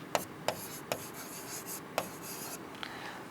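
Handwriting on paper: a series of quiet pen or pencil strokes with sharp scratchy taps and soft rubbing in between, close and faint in a quiet room.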